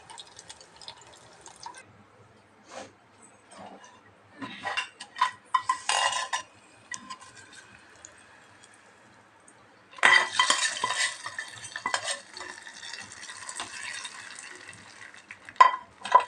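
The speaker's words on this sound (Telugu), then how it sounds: "తాలింపు వేసుకొని మనం పప్పులో కలిపేసుకోవాలి." A spoon clinks and scrapes in a pot as a tempering of chillies, green chillies and curry leaves is stirred into lentil dal, with intermittent wet stirring bursts and a longer sizzling, sloshing stretch near the end.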